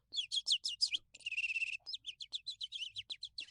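A person imitates a cute bird chirp with a rapid run of high, bright tweets in short bursts, one sustained warble in the middle, then more quick chirps, close and clear with no other sound.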